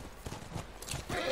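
Horse hooves clip-clopping in the video game The Last of Us, a quick uneven patter of a few hoof hits close by with light background noise.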